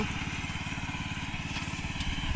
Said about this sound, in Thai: รถดำนา คูวต้า บริษัทตั้งถาวรเกษตรพันธุ์ ส่งลงแข่งที่สนาม